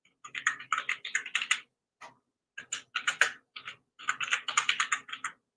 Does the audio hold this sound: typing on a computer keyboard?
yes